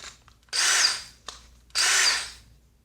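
A cordless drill with a 1/2 inch ratcheting chuck and variable-speed, 2-speed motor runs in two short, close bursts, each roughly half a second long, separated by a brief pause.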